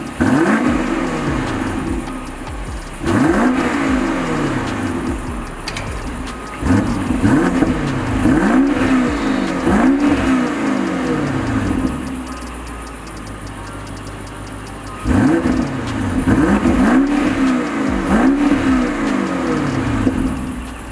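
A 2022 BMW Alpina XB7 with a 600-horsepower engine revs repeatedly, its exhaust barking through sharp rising and falling blips in several clusters with brief idling pauses between, loud and close.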